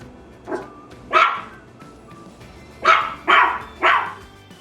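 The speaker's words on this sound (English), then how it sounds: "She saw Caroline through some trees and started barking." A dog barking outdoors: one soft bark, a sharper one, then three quick loud barks after a pause, fairly close with a quiet background.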